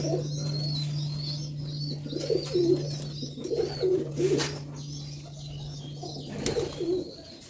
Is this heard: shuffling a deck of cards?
no